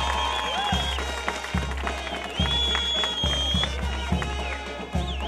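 Crowd applause at an outdoor village competition in Santiago Yucuyachi, a dense, moderate clapping wash with faint cheering, heard under a loud low hum and occasional voices.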